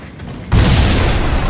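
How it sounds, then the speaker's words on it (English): A video-game explosion in Max Payne bursts in suddenly after a quiet moment, a loud, broad boom that holds as a dense roar for about a second without fading. "That's a hell of an explosion."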